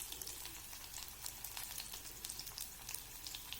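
Cabbage sautéing with dried red chillies in a pan for a Tamil cabbage kulambu gives a soft, steady sizzle sprinkled with small crackles and pops, faint and close, with no voices.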